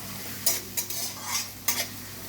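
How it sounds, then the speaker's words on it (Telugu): Thinly sliced onions frying in a pan until golden brown, with a low steady sizzle broken by three or four short scraping stirs of a utensil against the pan. "మంచిగా గోల్డెన్ బ్రౌన్ కలర్ వచ్చే వరకు మనం ఫ్రై చేసుకున్నాం."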